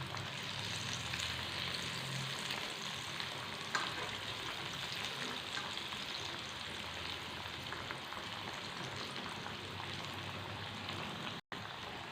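A small homemade evening snack deep-frying in hot oil, a steady dense sizzle that runs unbroken and fairly quiet for the whole stretch, with no voices over it.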